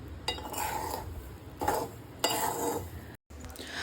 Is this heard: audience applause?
no